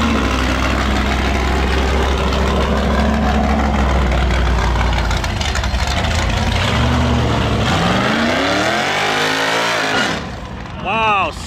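A heavy truck weighed down with a load revving hard during a tire burnout attempt, a loud sustained engine roar with rising and falling pitch sweeps. The engine drops off near the end and a voice speaks over it.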